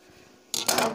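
Scissors make small cuts into fabric at a suit neckline: a quiet pause, then two quick, close, crisp snips in rapid succession.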